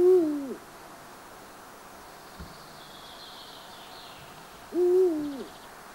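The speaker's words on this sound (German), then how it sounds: "Seinen Namen verdankt der Uhu dem Klang seines Rufes." Two deep, resonant eagle owl hoots, one at the start and another a few seconds later, separated by quiet with faint insect-like buzzing in the background.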